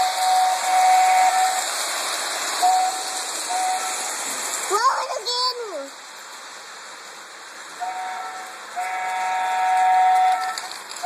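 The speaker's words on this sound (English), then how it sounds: "Blow the whistle. Blow the whistle." A train's steam whistle sounds in loud, sustained tones over heavy hissing steam, with a brief sliding wavering call in the middle and renewed long blasts toward the end.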